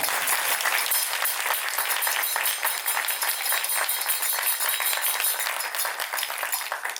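Devotees applauding at a Hindu temple Tulsi Vivah celebration, a dense, continuous crowd of hand claps, close and steady throughout.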